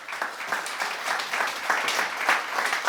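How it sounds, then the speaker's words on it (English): An audience at a conference talk on net zero value chains gives a warm round of applause, steady dense clapping from many hands sustained for the whole stretch. "Warm round of applause."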